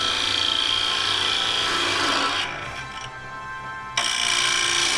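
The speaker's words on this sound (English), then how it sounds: "bowl gouge now and just finishing off those initial cuts" A bowl gouge cuts into a claret ash bowl blank spinning on a wood lathe, giving a steady loud rasping shear that drops away briefly and then returns at full strength.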